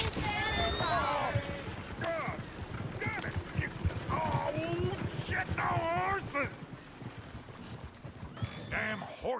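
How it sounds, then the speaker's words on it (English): Horses in Red Dead Redemption 2 neigh and whinny repeatedly over hoof clops, mixed with talking voices and busy game ambience. "Damn horses!"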